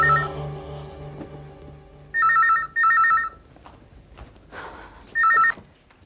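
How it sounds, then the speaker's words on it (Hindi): A telephone rings in short electronic bursts, three repeated rings with pauses between, over faint background noise and murmuring. "घंटी बज रही है"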